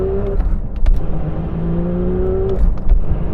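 A Porsche 911 S/T, a lightweight car with a light flywheel, revs up near and loud from the cabin in a rising, even drone, with brief clatter from behind the seats.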